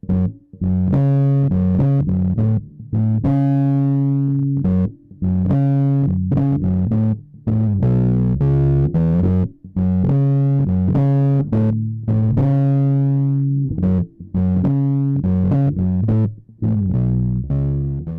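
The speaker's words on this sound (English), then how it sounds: "you can really easily achieve some pretty gnarly fuzzy tones with this" A bass guitar heavily fuzzed and distorted through a JHS Colour Box V2 preamp plays a chunky riff of sustained notes and short pauses, loud and close with no voices.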